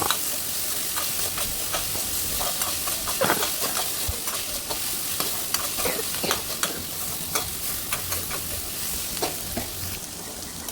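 Tomatoes sautéing in a pan for chicken kothu idiyappam, a steady frying sizzle with repeated spatula scrapes and stirring clatter throughout, close and fairly loud.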